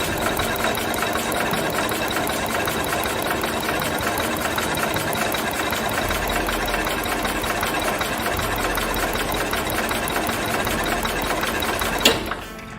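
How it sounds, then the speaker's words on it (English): A 1966 Cub Cadet 102 engine is spun over, producing a steady, rapid mechanical chugging and whirring that runs evenly for many seconds, close and moderately loud, then stops abruptly with a clunk near the end. "So let's spin the engine over a little bit"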